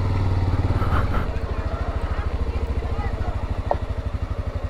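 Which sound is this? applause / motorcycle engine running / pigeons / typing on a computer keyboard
motorcycle engine running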